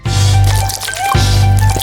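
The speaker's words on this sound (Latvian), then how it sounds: "Uzmanīgi lej pankūku mīklu pannā." Pancake batter pours into a frying pan with a loud, close, wet squishing and gurgling flow, briefly dipping midway before resuming.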